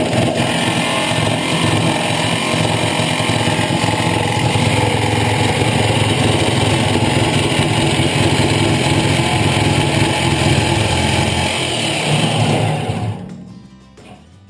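A power saw fitted with a wood blade cuts through a 55 gallon steel drum and bucks as it goes. The engine roars loudly and steadily close up for about thirteen seconds, then winds down and fades.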